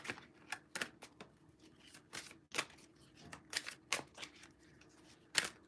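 Playing cards shuffled at a tarot-style reading table, a quiet run of sharp riffling flicks and soft slaps coming in irregular bursts, close and fairly faint, with no talking.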